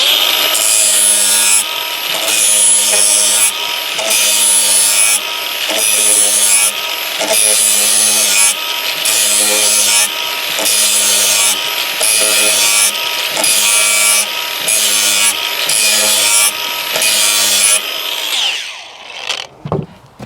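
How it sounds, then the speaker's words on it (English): An abrasive disc bevelling the end of a 110mm plastic underground drainage pipe, a loud, close, harsh grinding whine with rhythmic pulsing as the tool works around the pipe, winding down to silence at the end. "using the same disc, it's got a really nice abrasive side, we can put the bevel on"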